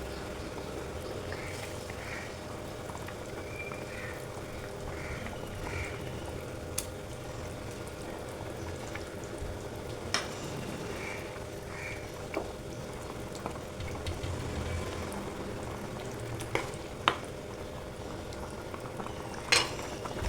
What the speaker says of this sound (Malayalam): അപ്പോൾ കറി നല്ലപോലെ തിളച്ച് തുടങ്ങുന്നുണ്ട് കേട്ടോ